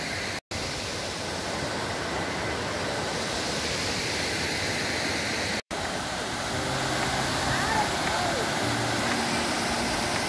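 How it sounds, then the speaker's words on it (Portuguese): Moinho de Esteira, a rocky waterfall crossing the BR-259 highway in Pedro Lessa, Minas Gerais, Brazil, roars as a constant loud broadband rush of falling water, close by, broken only by two brief dropouts. "Moinho de Esteira é uma cachoeira que atravessa a BR-259"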